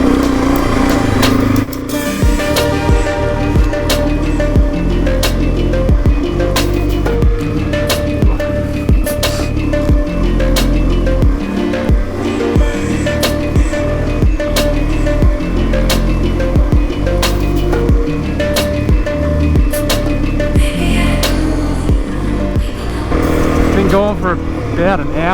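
A motorbike rides solo across the Simpson Desert, its engine droning steadily and loud throughout with wind rumble and small shifts in pitch, and a rider talks over it.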